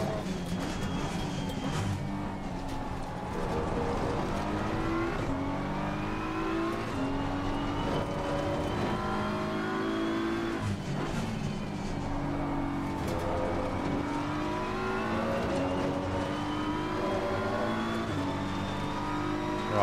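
A race car engine in a racing video game at the Kyalami circuit revs and roars continuously and loudly, pitch climbing and dropping through gear changes with no pause.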